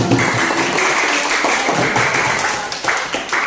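Students in a classroom give a short round of applause for a classmate after an Islamic studies lesson on congregational prayer, the clapping steady and fairly close, then tapering at the end.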